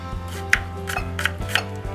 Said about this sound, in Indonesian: Bawang merah kita potong,